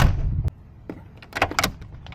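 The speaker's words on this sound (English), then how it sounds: "just listen to that door and your locks" A heavy Mercedes-Benz G550 4x4 Squared door slams shut with a solid thud, followed by a short series of sharp mechanical clicks and clunks as its locks engage.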